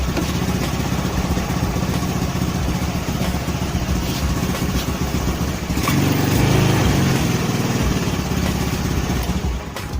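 A Honda Beat motorcycle with a faulty carburetor idles roughly, its engine note rising and falling unevenly, with a brief louder surge partway through; no one speaks.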